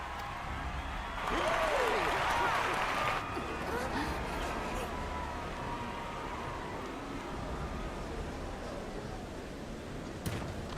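A crowd cheers and applauds in Final Fantasy XIV Dawntrail, a brief swell of clapping and cheering that rises for a couple of seconds, then fades beneath ambient game sound and a speaking voice.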